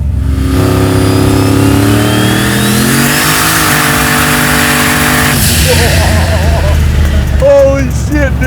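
A 1,500 hp big-turbo Volvo wagon engine revs up and accelerates hard, its pitch climbing steadily, then rising again after a brief shift, loud and close throughout.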